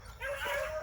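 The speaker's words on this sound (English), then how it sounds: "He was the first dog to bark." Young bird dog pup, an eight-month-old Bramlett/Reffett, giving short barks and yips out in the field, close and moderately loud over steady low background noise.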